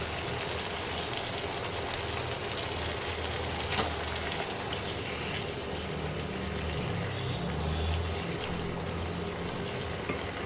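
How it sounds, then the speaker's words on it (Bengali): Chopped tomato sautéing in a pan with ginger-garlic paste for a chana curry, a steady low sizzle and frying hiss running evenly throughout with faint stirring. "টমেটোটা একটু কষে নিতে হবে।"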